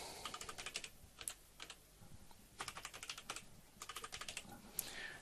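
A root password is typed on a computer keyboard: quiet, close clusters of quick key taps come in short bursts, separated by brief pauses.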